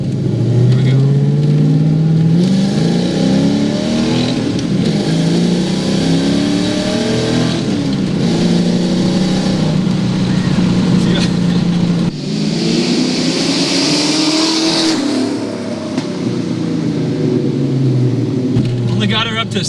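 A car engine revs and accelerates hard through the gears while being driven down barren roads in an industrial area, loud and close throughout with rising, falling pitch sweeps and a shift near the middle.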